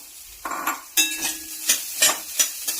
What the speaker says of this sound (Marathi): खवलेला नारळ पण आपल्याला ह्याच्यामध्ये भाजून घ्यायचा आहे छान असा